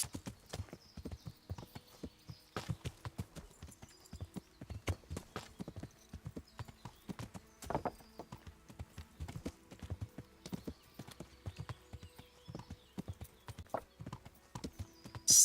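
Horse hooves clip-clopping steadily in Kingdom Come: Deliverance, a dense, even rhythm of close, distinct strikes running throughout with no talk over them.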